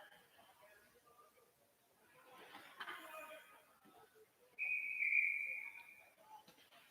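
A referee's whistle at a college ice hockey game sounds as one loud, bright blast of about a second, heard over distant arena crowd noise and faint commentary.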